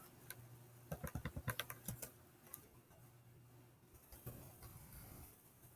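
Someone types a password on a computer keyboard in a quick, close burst of crisp key clicks, followed by a few scattered, quieter taps in a quiet room.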